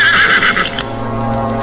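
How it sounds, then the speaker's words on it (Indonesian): A horse gives a loud, close whinny lasting under a second, followed by a steady low hum with no voices. "Hentikan, Purbaya. Hentikan kuda ini di sini."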